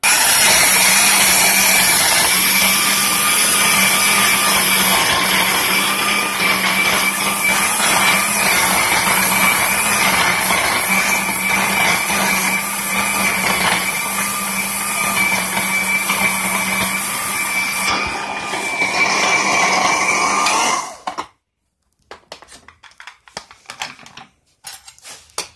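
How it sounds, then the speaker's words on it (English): A cheap blender chops fruit and ice for a smoothie, a loud, steady motor whine with rattling grinding for about twenty seconds before it cuts off abruptly, leaving near silence with a few small knocks. "Now, my blender is cheap."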